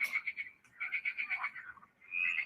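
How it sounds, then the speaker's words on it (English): Repeated croaking from frogs in short bursts, a steady rhythmic chorus that pauses briefly then resumes, fairly close and clear. "the sounds of frogs is called croak"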